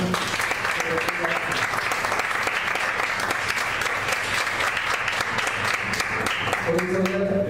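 A church congregation claps for God in a continuous, dense round of applause that holds at a loud, even level the whole way through, with a voice speaking faintly underneath.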